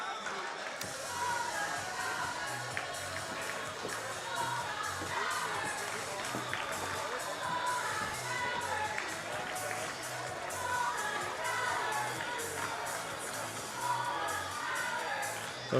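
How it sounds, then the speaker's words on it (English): Okanogan cheerleaders cheer at a high school basketball game while a crowd roars steadily in a gym and sneakers squeak on the court. A commentator talks over the noise. "Okanogan cheerleaders over there cheering on the faithful"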